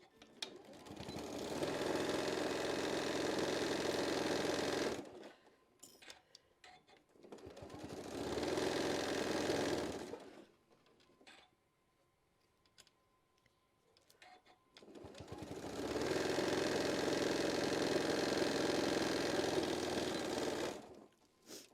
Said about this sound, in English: All right, let me get this one sewed.